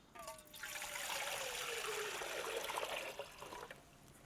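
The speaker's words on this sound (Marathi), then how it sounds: "पाणी टाकून घेऊ।" Water pours in a steady gurgling stream into a cooking pot for dal bati, close and continuous for a few seconds before it tapers off.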